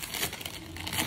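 Children's Day gift package being unwrapped: a brief burst of close crinkling and rustling of wrapping material, soft and uneven, with no voices.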